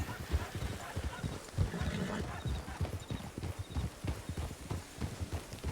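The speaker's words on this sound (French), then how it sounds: "Il y a trop de chevaux" Steady clip-clop of several horses' hooves on hard ground, close by, with an occasional snort or whinny mixed in.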